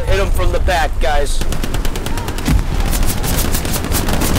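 Rapid machine gun fire in a Hell Let Loose firefight, a loud, fast and steady rattle of shots running throughout, with a voice shouting over the start.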